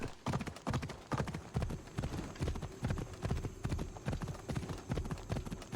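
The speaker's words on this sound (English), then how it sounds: "On the horse it's a little bit faster." Horse hooves clip-clopping at a quick, steady riding gait in the video game Assassin's Creed Odyssey, a regular rhythm of close, fairly quiet thuds.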